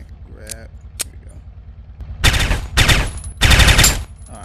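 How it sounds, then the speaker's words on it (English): An automatic pistol in a VR video game fires in three rapid bursts after a couple of isolated clicks, loud and close, with a voice briefly audible near the start. "Automatic pistol."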